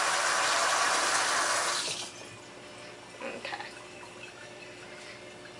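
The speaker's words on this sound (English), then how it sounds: "to rinse my spoon off" A kitchen tap runs steadily for about two seconds as a spoon is rinsed while making berry crumble, a close, loud rush that then stops, leaving faint clinks and room noise.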